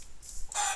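Chicken sounds from Minecraft: a short, close game-style cluck and squawk, bright and brief, heard alone with no talking.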